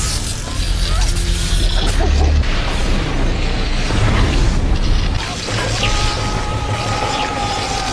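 A large reactor explosion in an Iron Man film scene, loud and sustained, with booming, crashing debris and rumbling mechanical noise lasting several seconds.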